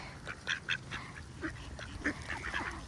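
Ducks being fed by people in New Zealand, with pigeons competing for the food, give several short quacks in scattered bursts over steady outdoor background noise, with no one speaking.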